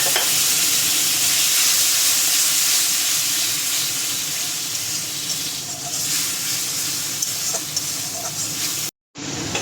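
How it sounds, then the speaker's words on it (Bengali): Ground cumin, coriander and pepper paste sautéing in a pan for a taro and snakehead fish curry, a loud continuous sizzle and hiss close up, steady throughout with no speech. "মশলাটা ভালোভাবে কষিয়ে নিয়েছি"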